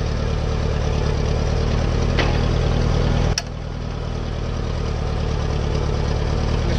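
A farm tractor's engine runs at a steady idle before plowing a field, giving a continuous mid-to-low drone with an even pulse. A sharp click comes partway through, and no one speaks.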